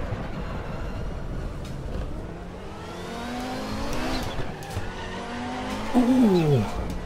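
An Audi 90 IMSA GTO race car in RaceRoom at the Nürburgring, engine droning and revving as it drifts, ending in a loud, wavering tire squeal.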